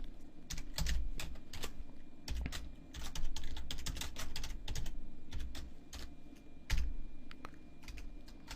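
Computer keyboard typing code for a program, a steady run of close, crisp key clicks with occasional heavier thumps, with no speech.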